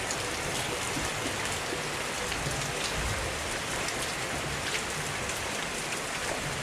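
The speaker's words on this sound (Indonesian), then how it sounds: "Sepertinya hujannya agak lama ini." Steady rain pours down in a continuous, even hiss on surfaces nearby, dense and unbroken throughout, with no voices.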